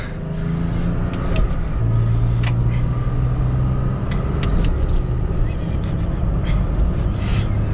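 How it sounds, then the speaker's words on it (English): 2021 Toyota Tacoma TRD Offroad with a manual transmission accelerating up to the speed limit on a road, a steady low engine drone and road rumble heard from inside the cab, rising in pitch as it pulls, with faint voices. "we're going to go ahead and get up to the speed limit here"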